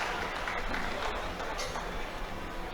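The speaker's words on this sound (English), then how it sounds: "He gets a round of applause from the crowd." A crowd at a USAPL powerlifting meet applauds, a dense, steady wash of clapping and murmuring voices that holds at moderate loudness throughout.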